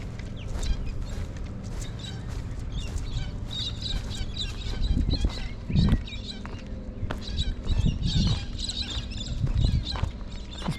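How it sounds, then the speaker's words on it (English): Birds calling at a waterside tourist park in Port Lincoln, scattered chirps and clucking calls repeating over a low outdoor background, with a few nearer bursts and no talking. "There's plenty of birds."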